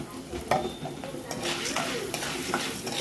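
Popcorn kernels fry in a pan while being stirred, a close sizzle mixed with scraping and light clinks of a utensil against the pan.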